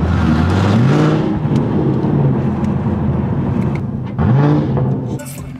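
A car running on E85 fuel cruises at the speed limit, its engine droning loud and steady close by, with revs swelling near the start and again toward the end.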